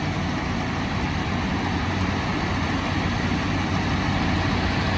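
Claas Dominator 98S combine harvester's engine running at full revs, a loud, steady, dense mechanical roar with a deep low drone that holds constant without a break.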